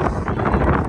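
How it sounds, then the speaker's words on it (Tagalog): Strong, steady wind on a mountaintop at Jebel Shams buffets the microphone with a loud, continuous roar and rumble, no other sounds standing out. "Kaya lang malakas ang hangin."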